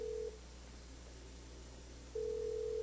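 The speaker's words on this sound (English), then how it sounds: "Answer the phone." A telephone rings in a 1995 soap opera scene, two steady electronic ring tones, one brief at the start and another beginning near the end, faint over low room noise.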